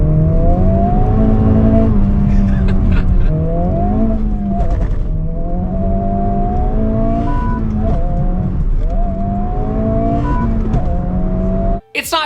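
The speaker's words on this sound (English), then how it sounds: "I don't think that this engine sounds smooth or serene." A 2024 Acura Integra Type S engine drones loud and near, its pitch rising and falling through several rev changes across the clip, cut off abruptly at the end.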